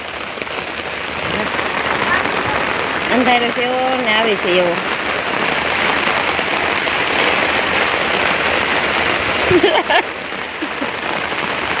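Heavy rain pours steadily and loudly, a dense continuous hiss, with a short spoken remark partway through.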